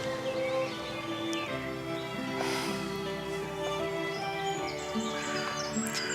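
Budgerigars twittering softly, scattered faint chirps and warbles over a steady background hum, continuous with no voices.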